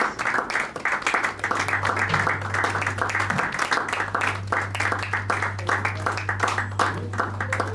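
An audience at a live-streamed event claps steadily as a guest walks to the stage, a dense, continuous wash of hands that stays loud throughout, with a low steady hum running underneath.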